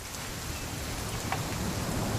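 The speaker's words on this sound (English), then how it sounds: "It's gonna rain the whole weekend" Steady rain in the video game What Remains of Edith Finch patters continuously, a soft broadband hiss with scattered drops, ending in a brief louder burst.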